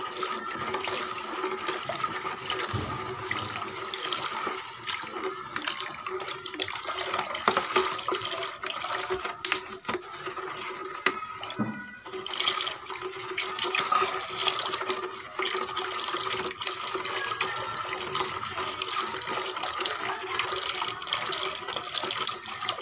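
Liquid potassium sulfate fertilizer is stirred in water, giving a continuous swishing, sloshing wash of liquid at moderate level with no talk.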